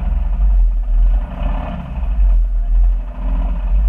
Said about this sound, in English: it sounds like the whole engine is made of grit and stones